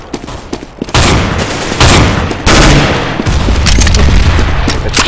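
Loud, dense gunfire in Counter-Strike: Global Offensive, with sustained bursts of shots and explosive booms that blend into a continuous roar of battle after a quieter opening.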